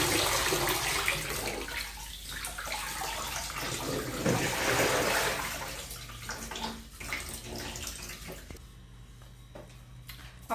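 Water runs steadily from a tap while amaranth greens are washed in a home kitchen, a loud continuous splashing stream that eases and turns more sporadic with soft trickles toward the end.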